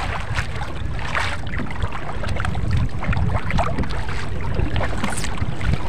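An unmotorized wooden rowboat is paddled across open water: steady broadband splashing and wash with wind buffeting the microphone, close and continuous with no engine present.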